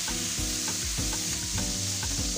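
Curry leaves fry in hot oil with onions, bay leaves and whole spices such as star anise. A loud, steady sizzle runs throughout, with rhythmic stirring scrapes about twice a second, and no one speaks.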